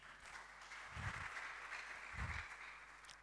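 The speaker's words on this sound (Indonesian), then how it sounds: "Tepuk tangan bagi Tuhan Yesus." Applause in a church service at a GBGP anniversary worship in Manokwari, a steady wash of clapping from the congregation with low thumps swelling briefly twice, fairly faint and continuous throughout.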